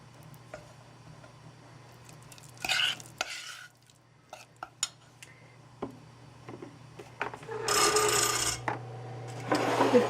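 A spoon folds brownie batter for marbled mint brownies in a bowl, giving soft scraping and stirring strokes in irregular bursts, close and fairly quiet, with a faint steady hum underneath.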